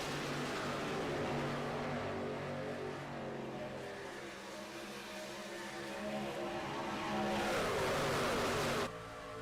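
NASCAR Truck Series race trucks at Daytona International Speedway during the C.O.P.S 250 rumble past with a sustained, droning engine roar that swells louder near the end before cutting off abruptly.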